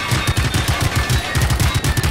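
Rapid automatic gunfire in a video game aimed at gas tanks, a dense rattling burst of close, loud shots in quick succession with no pauses.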